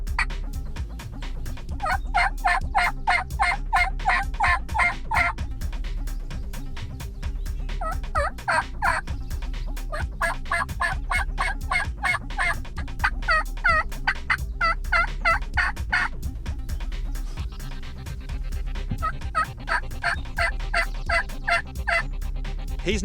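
A wild turkey gobbler at first light gives repeated loud gobbling bursts in an even rhythm, about five volleys close by over a steady outdoor background.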